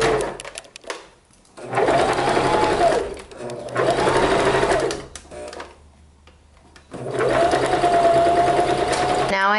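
A sewing machine stitches two fabric pieces together right sides facing at a half-inch seam, running in three close, loud bursts of rapid whirring separated by short pauses.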